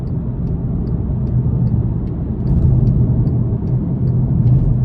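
A 2022 Volkswagen Passat SE's turbo engine pulling under acceleration, heard from inside the car as a steady low rumble with road noise that swells slightly toward the end.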